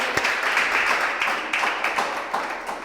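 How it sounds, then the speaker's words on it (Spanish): Church congregation applauding, a steady wash of many hands clapping at moderate loudness with scattered sharper claps and no clear voices. "Dale un fuerte aplauso a Dios si tú lo crees."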